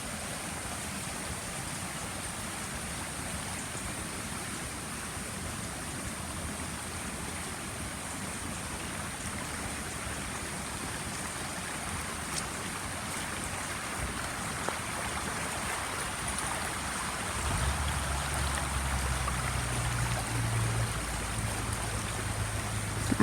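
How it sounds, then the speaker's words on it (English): A small creek runs through a redwood forest, giving a steady, even wash of flowing water that stays constant throughout, with a faint low hum entering near the end. "Beautiful little creek running down through here."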